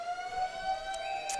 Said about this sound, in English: And there is the siren